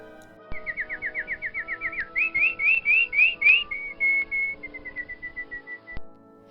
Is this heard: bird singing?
yes